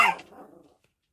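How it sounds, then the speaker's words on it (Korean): A dog gives a single sharp, loud bark that trails off into a brief growling tail, then silence. "강아지가 짖었네요."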